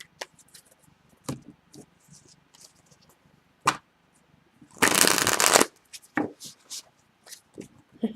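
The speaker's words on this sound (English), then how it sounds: "we will begin your reading by shuffling the cards" Tarot cards are shuffled by hand in quiet riffling bursts, with one longer, louder riffle in the middle and soft handling clicks around it.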